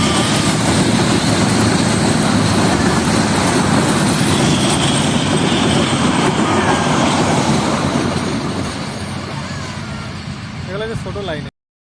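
At Majhgram railway station a train rumbles past close by, giving a loud, continuous roar of wheels and carriages that fades slightly toward the end.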